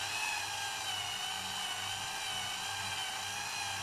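Budget cordless drill running: a continuous high-pitched motor whine, loud and close, holding steady for the whole stretch with no voices.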